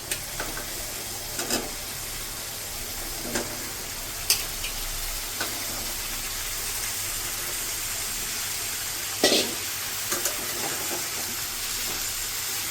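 Vegetables sautéed with spices in a pan for a fish-head and greens dish: a steady close sizzle throughout, broken by a few sharp spatula scrapes and stirring clatters.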